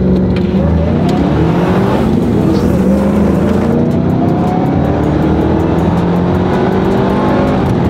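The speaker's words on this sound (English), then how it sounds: "hey, you guys got some cars out there racing around." A new 2024 Ford F-150 4x4 pickup truck engine roars loudly and steadily as it accelerates, with rising engine tones throughout.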